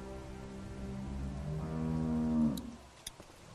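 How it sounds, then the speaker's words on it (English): A cow in The Walking Dead video game gives one long, loud, close moo that rises and then cuts off, followed by a few faint knocks and rustles. "How do you like that cow, Clem?"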